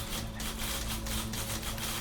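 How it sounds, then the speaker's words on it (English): Typewriter sounds in The Beginner's Guide video game: a quick series of sharp mechanical clacks in an uneven rhythm, fairly close and moderately quiet over a steady low hum. "Typewriters."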